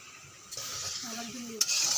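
Dal being stirred in a pot with salt and turmeric over onions fried golden, a soft scraping stir under steady low sizzling that swells partway through, with a brief clink near the end.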